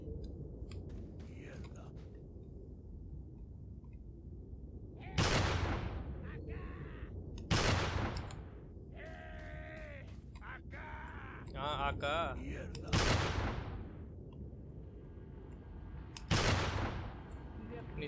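Gunfire in the video game Resident Evil 4, with several sharp, loud single shots spaced a few seconds apart over low game ambience, and someone talking between them.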